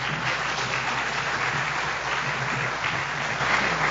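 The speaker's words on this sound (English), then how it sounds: "give him a round of applause" An audience at a policy briefing on California's opioid response claps for the panelists, a steady, dense round of applause that fills the room at even loudness, with no voices over it.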